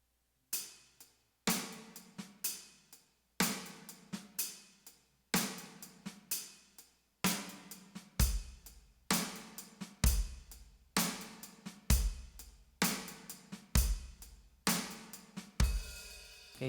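A drum beat with a snare triple stroke and a left-hand ghost note: regular, closely spaced hits in repeating groups, sharp attacks with quick decay, and deeper kick thumps joining in partway, played close and alone.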